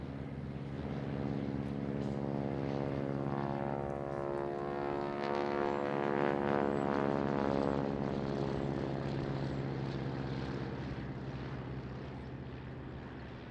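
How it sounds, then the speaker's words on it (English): Three Piper Cubs and a World War II BT-13 trainer fly over in formation at a Memorial Day ceremony, a steady droning propeller engine roar that swells as the planes pass overhead and slowly fades, with no talk. "formation flying over today is 3 local Piper Cubs and a BT-13 pilot trainer"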